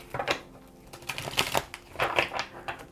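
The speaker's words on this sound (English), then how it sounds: "I'm going to do one more shuffle" Tarot cards get a shuffle in a series of quick papery riffles and slaps, sounding in short separate bursts close to the listener, with nobody speaking.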